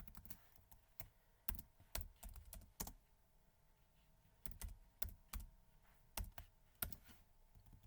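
Code being typed on a computer keyboard: quiet, uneven clicking keystrokes in quick bursts with brief pauses, close and alone.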